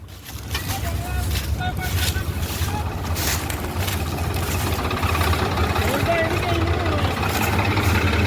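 A tractor engine, model 843, idles with a steady low rumble while towing a loaded trolley out to the road at a village farm, running continuously under voices talking.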